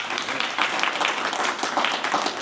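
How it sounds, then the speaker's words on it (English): An audience claps at a university press conference announcing a Google.org AI grant, a lively round of hand claps that swells and dips in uneven waves, with no voices over it. "Please clap for that."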